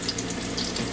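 Croquettes frying in hot oil give a dense, steady crackling sizzle, close and continuous, with no voices.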